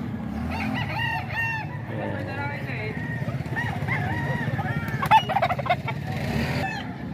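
Gamefowl roosters crow repeatedly at a farm, several overlapping crows near and farther off, under steady background chatter and some handling clatter.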